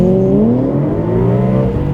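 A BMW E92 M3 GTS engine revs hard and climbs steadily in pitch as the car accelerates from standstill in automatic mode, loud and close, with no talking.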